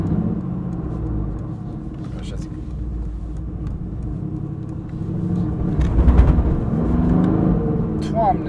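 Mercedes-AMG GT R PRO with a 577-horsepower twin-turbocharged V8 producing a deep, steady engine rumble that swells louder toward the end, with people talking over it.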